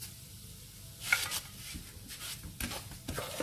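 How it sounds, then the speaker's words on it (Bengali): Sweet potato halwa with sugar is stirred in a pan, with soft scraping strokes repeating over a steady low sizzle, close up and without talk. "এটাকে অনবরত নাড়তে হবে"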